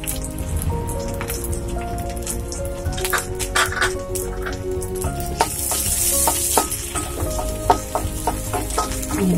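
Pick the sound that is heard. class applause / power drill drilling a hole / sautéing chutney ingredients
sautéing chutney ingredients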